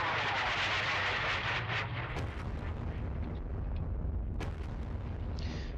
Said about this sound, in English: Very light howitzers